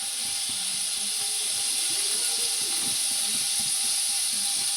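Oil heating in a pan for tempering kadhi gives off a steady, even hiss, close and continuous, with faint low kitchen clatter underneath.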